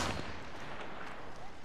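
Gunfire in Apex Legends, a burst of shots at the start giving way to a busy, moderately loud wash of distant firing and battle noise that continues throughout.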